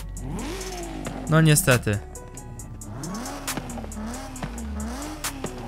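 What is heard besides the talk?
BMW M3 engine in Forza Horizon 5 video game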